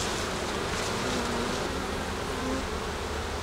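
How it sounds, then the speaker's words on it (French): A dense, continuous drone of honeybees buzzing close by as brood frames are transferred during a hive split, steady and loud throughout. "Je transfère les abeilles avec"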